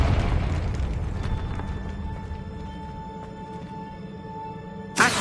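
A Confringo fire spell explodes in Hogwarts Legacy with a loud broadband boom at the start, then a rumbling decay under sustained game ambience and tones. A second sharp burst hits near the end.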